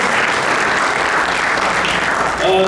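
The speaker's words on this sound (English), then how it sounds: "How about a nice round of applause for all the kids and grandkids of our elected officials" Crowd at a Derby inauguration ceremony applauding, a loud, dense, continuous roar of clapping hands that holds evenly throughout, with a brief voice or tone surfacing at the very end.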